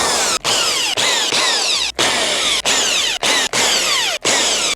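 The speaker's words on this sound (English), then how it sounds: "I'm gonna drill out the holes first and then airbrush" A power drill bores holes into an Air Force 1 sneaker. The loud, close whine runs in repeated bursts, each broken off by a brief stop, about eight or nine in all.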